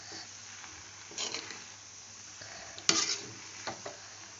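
Boiled macaroni stirred in a pan with a spoon, giving quiet, scattered scraping and light sizzling, with a few sharper clinks of utensil against metal. No one speaks.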